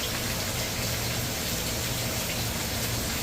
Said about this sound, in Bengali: বাইরে সেই বৃষ্টি